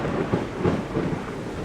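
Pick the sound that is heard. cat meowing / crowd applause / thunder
thunder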